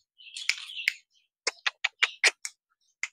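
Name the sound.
birds chirping in backyard garden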